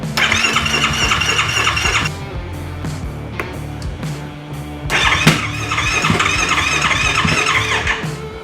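A Yamaha YFZ450R ATV with a Yoshimura exhaust cranks with a high starter squeal, then catches and runs loud and close, its idle being adjusted, with a brief dip in the middle before the engine noise swells again.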